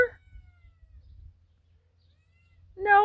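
A house cat meows twice, a brief cry at the start and a louder, closer meow at the end, separated by near silence and faint low rumble.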